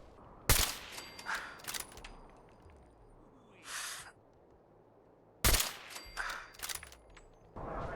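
Gunfire in Fallout 4: two sharp, loud shots about five seconds apart, each followed by brief metallic clatter and rattling, with quieter clicks and a short rustle in between.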